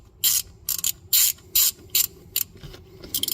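A socket being spun on a bolt by hand during a supercharger install on a 1999–2005 Mazda Miata, a rapid series of crisp ratcheting clicks in short bursts, close and clear with no talking.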